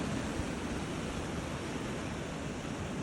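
Surf rolls onto a beach at night, a steady broad wash of breaking waves that fills the clip without pause, fairly close and even in loudness.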